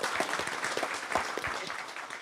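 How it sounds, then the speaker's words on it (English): A crowd at an EverQuest fan festival claps steadily in dense applause, moderately loud and sustained throughout. "Round of applause for that."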